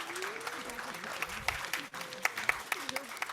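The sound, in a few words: audience applause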